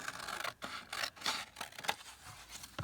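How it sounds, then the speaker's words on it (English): Scissors trimming material to fit on top of a tag, a few close, quiet snipping and rustling cuts in uneven bursts, with no speech. "I'm going to go ahead and I'm going to trim it down"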